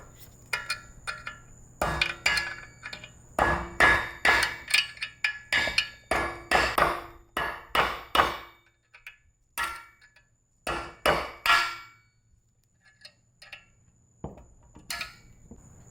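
A hammer strikes a metal punch against a broken bolt on a BMW E9X/E82, a close series of sharp ringing taps in quick clusters, with pauses between groups and a few isolated blows at the end.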